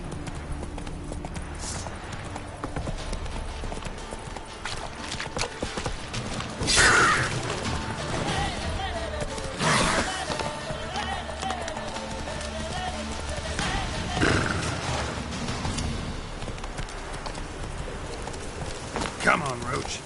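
Roach the horse galloping in The Witcher 3, steady rhythmic hoof clip-clop running throughout with a light rain-like patter, a voice speaking briefly over it.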